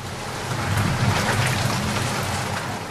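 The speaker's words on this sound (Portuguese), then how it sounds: "quando uma forte chuva começou" Heavy rain pours steadily at a skate park, a dense, loud hiss of drops on surfaces with a low rumble underneath, continuous and without voices.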